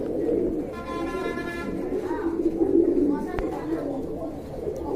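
A pair of Afshan grizzle pigeons coo softly under steady background noise, with a brief harmonic call and a sharp click partway through.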